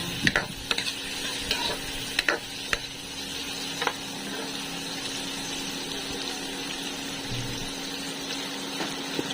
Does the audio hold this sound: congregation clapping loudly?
no